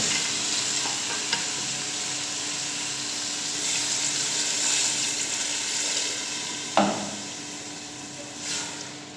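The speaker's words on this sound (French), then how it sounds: "maintenant j'ajoute l'eau" Peanut sauce for mafé simmers and sizzles steadily in a pot as water is added and stirred in, with a continuous bubbling hiss and a single clunk of the utensil near the end.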